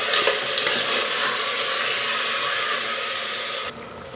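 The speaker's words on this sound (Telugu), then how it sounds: "ఇప్పుడు దీనిలో క్లీన్ చేసిన మటన్ వేసేద్దాం చూడండి దీన్ని చక్కగా కలుపుకుని మూత పెట్టుకోవాలి" Cleaned mutton goes into a pan of onions fried red for a mutton and raw mango curry. A loud, even sizzle carries on with faint stirring and drops off sharply near the end, with no talking.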